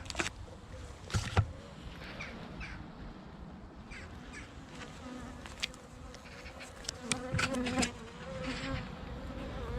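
Honey bees buzz around hives on a November day of winter preparations, faint scattered buzzing close by with short louder bursts as individual bees fly past the microphone, plus a few light knocks and handling sounds.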